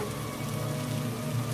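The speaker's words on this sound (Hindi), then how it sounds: "बारिश और आंधी के शोर के बीच" Steady rain pattering on a surface, a constant dense hiss with a low rumble underneath, no voices.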